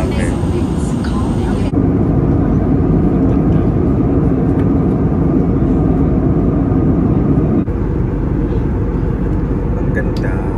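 Steady, loud broadband roar of an airliner cabin in flight between Manila and Korea, heard from a window seat, a continuous engine and airflow drone with no pauses; faint voices occasionally rise beneath it.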